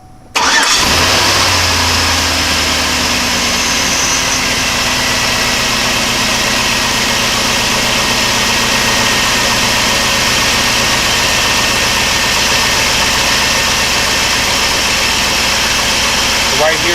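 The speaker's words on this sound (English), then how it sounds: "We're going to start the car up" A 2005 Chevy Avalanche truck engine with a bad purge valve cranks and catches, then settles into a loud, steady idle with a constant low rumble for the rest of the clip.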